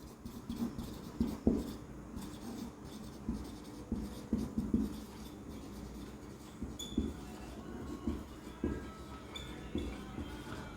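Chalk or marker writing on a classroom board during a biology lesson, soft rhythmic scratches and taps in short strokes, quiet and close with room hum behind.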